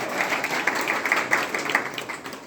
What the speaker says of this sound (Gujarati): તાળી પાડજો, મજા આવે તો